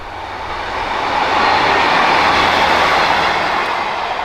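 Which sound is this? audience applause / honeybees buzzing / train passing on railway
train passing on railway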